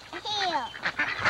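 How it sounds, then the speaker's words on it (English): Baby ducks give high, thin peeping calls, several rising and falling cheeps close by in a short burst, with other birds and light background noise mixed in. "See the baby ducks?"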